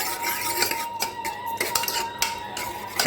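A spoon clinks and scrapes against a pot while cooked dal with spinach is stirred, a series of irregular metallic taps and knocks close up.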